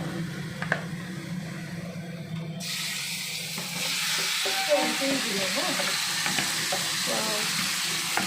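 Chicken pieces with chicken masala hitting a hot pan, a steady broadband sizzle that jumps louder partway through and keeps hissing close by, with faint clinks and no talk.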